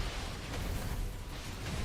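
Fireworks exploding in Dyson Sphere Program, a steady wash of rumbling, crackling bursts that runs without a break at moderate volume, with no voices.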